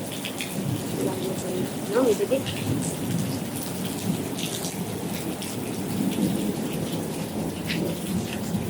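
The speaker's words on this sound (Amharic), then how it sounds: "ዝናብ እየዘነበ ነው። ጉርምርምታው እራሱ ይሰማችኋል" Heavy monsoon rain pours steadily on surfaces while thunder rumbles in the background, a dense continuous wash of sound; a person speaks briefly over it.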